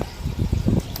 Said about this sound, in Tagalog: maririnig mo pa yung tunog ng tubig